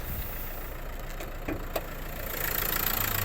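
A Renault Megane 4 with the K9K engine idles steadily, giving an even mechanical hum that grows slightly louder near the end, heard close with no talking.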